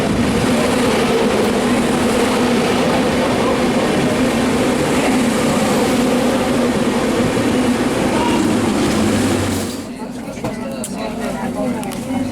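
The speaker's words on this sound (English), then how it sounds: "Getting this train to Salou, and this is my last Spanish train ride of this year." A Spanish regional express train ride to Salou heard from inside the carriage, a loud, steady rumble that drops to a quieter level near the end, with a voice faintly audible.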